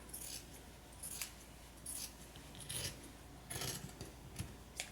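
Scissors snipping away excess fabric while sewing a simple tote bag, a series of short crisp cuts in quick bursts, close and fairly quiet, with no talking.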